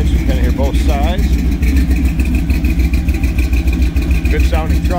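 Restomodded 1959 Chevrolet Apache pickup with side-exit exhaust, its engine running steadily with a deep, loud rumble throughout, while people talk over it.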